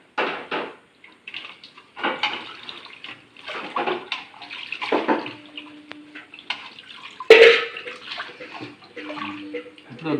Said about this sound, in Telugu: చేసుకున్నాక నీటిలో వేసి శుభ్రం చేసుకోవాలి.